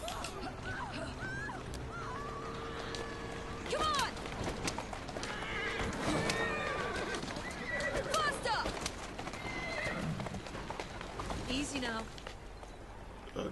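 Horse neighs and clip-clops at a trot in the Victorian London streets of Assassin's Creed Syndicate, the whinnies rising clearly over a busy background of game sounds and voices.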